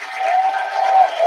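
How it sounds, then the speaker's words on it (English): Applause from an interview event audience, a steady dense wash of clapping kept at an even level through its short length, with no speech over it. "Give that a round of applause."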